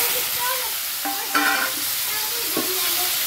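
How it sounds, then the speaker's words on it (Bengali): Potatoes go into a hot pan with cumin seeds and dried chili and fry with a steady sizzle and hiss, stirred with a few scraping bursts, close and fairly loud. "এবার আলুগুলো ছেড়ে দেবো।"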